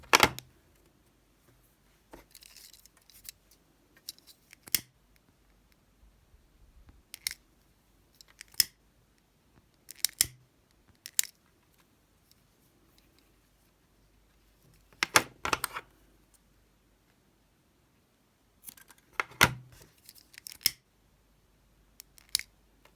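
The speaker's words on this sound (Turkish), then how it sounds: "Sıfırdan kesiyorum iplerimizi." Scissors snip through macrame cords while a floral leaf friendship bracelet is made, with sharp isolated cuts and short clusters of snips separated by quiet pauses, close and fairly clear with no talking.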